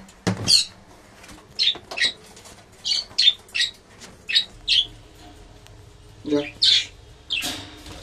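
Pet birds in a cage, sky-blue and green, give a series of short, sharp squawks in irregular bursts, close by and fairly loud.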